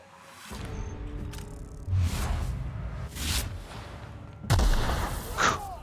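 Sci-fi gunfire in The Outer Worlds during a fight with guards: several loud shots and booming blasts spaced over a few seconds, with whooshing sweeps and a sharp burst near the end.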